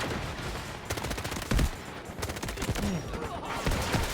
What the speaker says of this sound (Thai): ไอฝั่งนู้นก็ยิงมา ไอ้ฝั่งขวาก็ยิงอีก